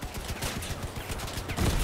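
Rapid bursts of Avalanche weapon fire in a video game, a dense crackling volley of close shots running throughout, with a heavier thump near the end.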